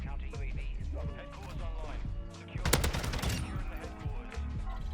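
Rapid bursts of automatic gunfire in the video game Call of Duty, loudest in a dense cluster midway, with someone talking over the shooting.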